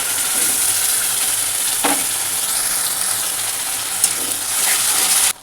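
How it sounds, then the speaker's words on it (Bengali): Spices stirred with tomato and cashew paste in a hot pan for palak paneer, a loud steady hiss and sizzle with soft scraping stirs that stops abruptly at the end. "মশলাগুলো ভালো করে মিশিয়ে নিই।"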